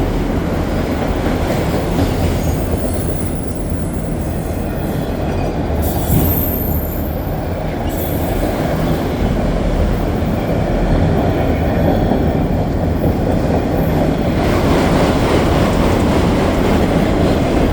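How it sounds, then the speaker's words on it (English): A CPKC intermodal freight train rolls steadily past at Dorval on a winter night, a continuous loud rumble of wheels and cars with faint squealing, close by and with no voices. "And there it is, that's the end of that train."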